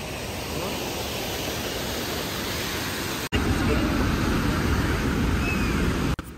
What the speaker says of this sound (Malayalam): അപ്പോൾ അങ്ങനെ പോകുന്ന വഴിക്ക് കണ്ട ഒരു ചെറിയ വാട്ടർഫാളാണിത്